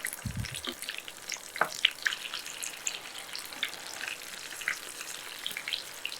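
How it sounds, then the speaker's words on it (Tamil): Chicken pakoda pieces fry in hot oil with a steady crackling sizzle, scattered sharp pops and a brief clink of a stirring utensil near the start, close and continuous. "இதை ஒரு 5லேருந்து 6 நிமிஷம் அப்படியே பொரிச்சு எடுத்துடலாம்"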